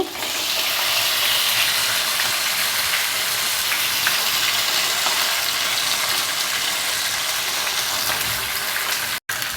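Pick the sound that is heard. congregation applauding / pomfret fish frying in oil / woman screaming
pomfret fish frying in oil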